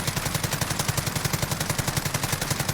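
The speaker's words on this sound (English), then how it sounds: "So I'm gonna go ahead and shoot straight as possible as I can." Rapid automatic gunfire from Call of Duty: Black Ops Cold War Warzone, a steady sustained burst of evenly spaced shots with no speech, loud and continuous throughout.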